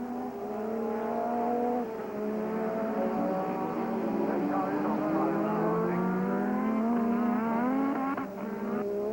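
Formula 1 cars with Porsche and Honda engines race at the 1986 Canadian Grand Prix, their high-pitched engines screaming and shifting as they pass on track, with a commentator talking over the sound.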